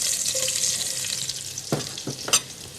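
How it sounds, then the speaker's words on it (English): Onions frying in hot oil in a Kerala kitchen, a bright steady sizzle that fills the clip, broken near the end by a few sharp scrapes and knocks of a utensil against the pan. "The meantime, the oil is hot. I'll be putting some onions"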